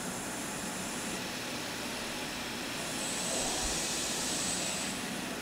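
A lathe spindle running at about 175 RPM speeds up as the cutting tool moves inward under constant surface speed: a steady, even machine roar that swells louder and brighter about halfway through.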